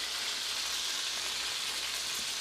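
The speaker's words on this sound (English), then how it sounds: "I am cooking our chicken. It's been cooking for a couple minutes. In our pan." Chicken pieces sizzle undisturbed in a pan, a soft continuous frying crackle and hiss that holds steady from start to finish, fairly quiet and close, with no talking.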